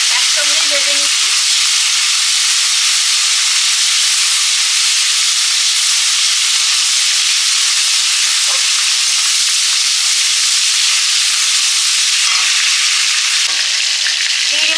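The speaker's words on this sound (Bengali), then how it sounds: "চিংড়ি মাছ একসঙ্গে ভেজে নিচ্ছি।" Prawns fry in a pan with a loud, dense, continuous sizzle and hiss that fills the whole stretch close up, with only faint clinks now and then.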